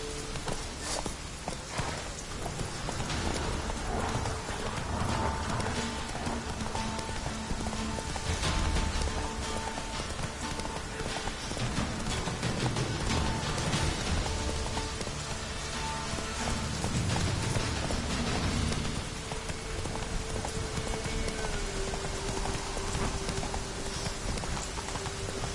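In The Witcher 3, the horse Roach gallops through rain, with steady clip-clop hoofbeats under a constant wash of rainfall and ambient noise and no talking.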